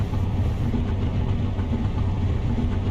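A car engine in the Car Mechanic Simulator 21 game, freshly topped up with oil, runs with a steady, dense low rumble that holds at an even loudness for its whole length, with no voices over it.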